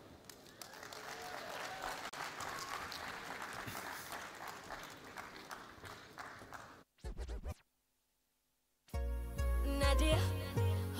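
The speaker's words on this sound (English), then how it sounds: "So with a round of applause, I want you to help me welcome on stage" Audience applause at a Safaricom engineering summit welcoming a performer on stage, sustained clapping for several seconds before an abrupt cutoff, brief silence, and then loud music begins.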